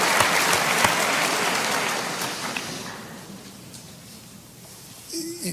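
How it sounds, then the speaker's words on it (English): Applause from an audience at the MIT AeroAstro Centennial Symposium fills a large hall with dense, even clapping that gradually thins and fades over several seconds. "I think that deserves an applause."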